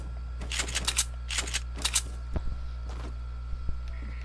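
Gunfire in the Fortnite battle royale video game: several short bursts of shots at moderate distance, a few quick volleys spaced across a few seconds, followed by a couple of isolated sharp hits over a steady low game hum.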